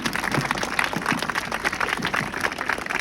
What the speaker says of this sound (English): Give a huge round of applause from them.